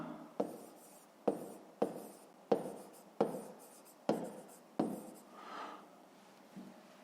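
A pen writes by hand on paper in a math exercise, with seven crisp, evenly spaced strokes each trailing off into a short scratch, close and quiet, followed by softer faint marks.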